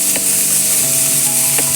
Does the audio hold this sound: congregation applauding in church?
no